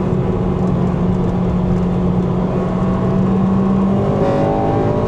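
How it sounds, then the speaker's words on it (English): Honda Civic Type R (JDM) engine revving hard as VTEC engages, a loud sustained intake and exhaust roar with pitch climbing steadily through the rev range, close and continuous for the whole stretch. "Listen to that VTEC kicking in."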